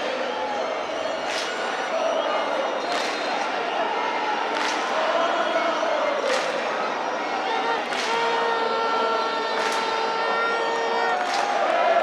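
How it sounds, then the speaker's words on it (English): A stadium crowd of Kaizer Chiefs supporters roars and chants steadily at a Premiership football match, with sharp whistles or horn blasts recurring at regular intervals through the noise. "Kaizer Chiefs have got the crowd going here."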